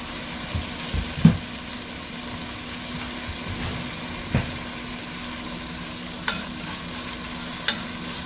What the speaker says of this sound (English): I'm just going to let this go until my onions are a little bit more translucent.